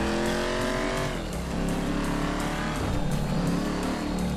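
A heavy motorbike engine in Grand Theft Auto V drones loudly and continuously at high revs, its pitch dipping briefly and climbing again, with game traffic noise around it.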